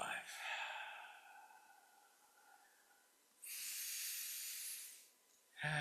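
A slow, steady exhale during a guided breathing exercise, a soft airy hiss lasting a couple of seconds, preceded by a calm voice speaking quietly.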